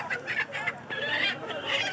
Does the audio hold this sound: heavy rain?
no